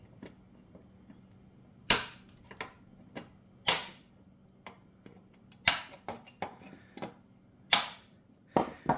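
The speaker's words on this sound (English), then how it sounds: "let's cut these ends off" Sharp, separate snips as cutters clip the ends off hot plastic welding staples, about eight clicks spaced irregularly over a faint background hum.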